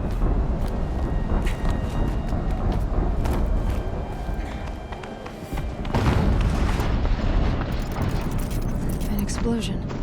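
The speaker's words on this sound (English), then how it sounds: "An explosion." Explosion in the video game Horizon Zero Dawn, a loud broad rumbling blast that swells again midway, filling the scene with dense low roar and crackling debris.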